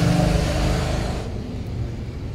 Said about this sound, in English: I have to keep waiting for cars to go by.